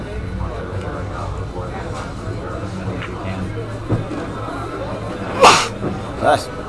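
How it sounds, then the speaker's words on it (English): A single sharp sneeze bursts out over a quiet room with low background chatter, followed by a smaller second sound. "I sneeze twice a day, like clockwork."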